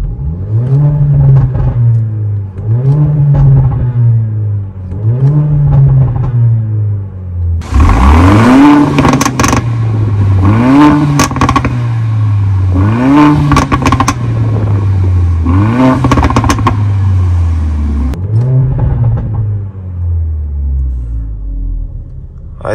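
A 2018 Mercedes GLA 45 AMG in Sport Plus mode with its exhaust fully open revs repeatedly, a loud close series of rising and falling blips that grow harsher and crackle midway before settling.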